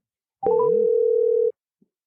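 A single steady telephone tone sounds for about a second, loud and clear, then stops abruptly in an otherwise quiet line.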